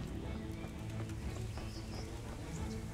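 Horse in the medieval video game Kingdom Come: Deliverance, soft hoof clip-clops and faint movement sounds over a low, steady outdoor ambience, quiet and at middle distance.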